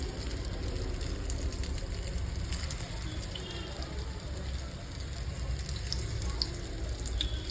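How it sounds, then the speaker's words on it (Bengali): Round paneer balls fry in hot oil over a low flame, giving a steady, dense, even sizzle that runs throughout without pause. "আর এটাকে কিন্তু আমি কম আঁচে ভাজবো"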